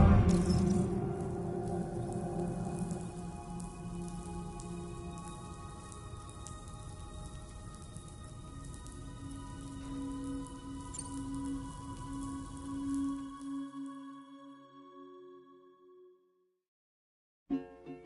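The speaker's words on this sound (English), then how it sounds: "Those raindrops are falling on my head. They keep falling." Rain pattering steadily on surfaces in the video game Death Stranding 2, a dense soft hiss with a low rumble that thins out and fades toward the end, leaving near silence and a brief final bump.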